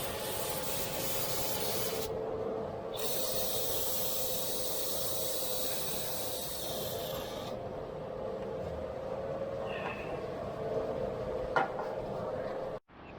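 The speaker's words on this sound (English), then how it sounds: "spray them off, give them a good wipe down, get that coolant off of there" Coolant being sprayed and wiped off the engine pulleys of a 2013 Jeep Wrangler JK 3.6 Pentastar during a water pump and thermostat job, a steady close hiss with a brighter high burst in the middle, ending in a brief sharp knock.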